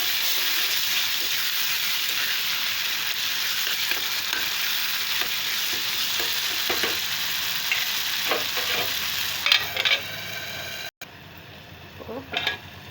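Tomato and broad bean curry sizzles loudly and steadily in a pan, a dense hiss broken by occasional utensil clinks, before cutting to a quieter simmer at the end.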